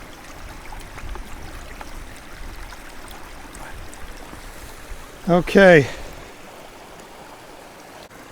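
A swamp-fed stream with tannin-tinted water flows as a steady, soft broadband wash throughout, with a brief spoken word cutting in near the end before the water settles back alone.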